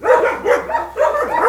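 Dogs bark loudly and excitedly at a newly arrived stranger German Shepherd found in a forest, with repeated close barks coming in quick bursts and no voices.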